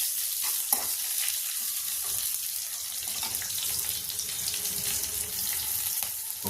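Chicken masala frying in hot oil and ghee in a pot, giving a continuous close hiss and sizzle with faint stirring scrapes and no talking.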